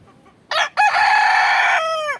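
A young rooster crows loudly and close, one long drawn-out cock-a-doodle-doo after a brief opening note.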